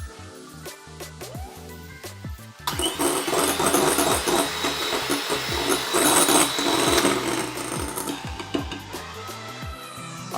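An electric whisk beats vanilla essence into a whipped aquafaba mixture for vegan ice cream. A quieter mechanical hum and clatter give way to a louder, continuous whirring motor drone that holds steady to the end.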